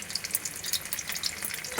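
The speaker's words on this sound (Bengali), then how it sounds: "এবার ভালো করে লাল লাল করে আলুগুলোকে ভেজে নেব।" Potatoes frying in oil with salt and turmeric, a steady crackling sizzle of bubbling fat running throughout, close and moderately loud with light stirring noise and no voices.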